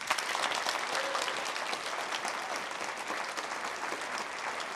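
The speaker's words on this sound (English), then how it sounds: "I really want to give a round of applause to Sarnia for all her efforts." Audience applause at a Kris's Wish event in Guelph, a dense, steady clapping from a crowd that stays loud and even throughout with no talk over it.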